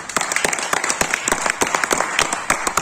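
A small audience at a marketing-plan presentation claps in scattered, distinct sharp hits, moderately loud and fairly close, a loose round of individual claps rather than a dense roar.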